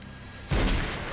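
A single heavy gunshot from a heist comedy film scene bursts in after a half-second of low ambience, a loud booming crack that leaves a dense, rumbling tail fading slowly to the end.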